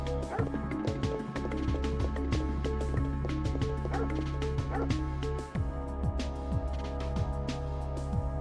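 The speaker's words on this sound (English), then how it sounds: "He just watches those dogs walk around and bark." Dogs in the Parasite Eve video game bark repeatedly in short yips and woofs, with a few whimpers, over a steady droning background of game music and ambience.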